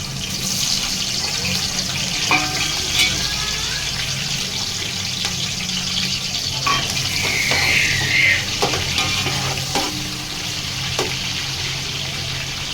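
Onions frying in a pan for Arabic maqluba with chicken, a steady close sizzle running throughout with occasional stirring scrapes and watery splashes, no talking.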